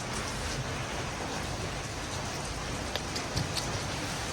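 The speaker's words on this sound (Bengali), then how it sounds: "দেখতে পাচ্ছ কত জোরে বৃষ্টি হচ্ছে" Heavy rain pours down in a steady, dense hiss with scattered nearby drop splats, continuous and fairly close, with no voices.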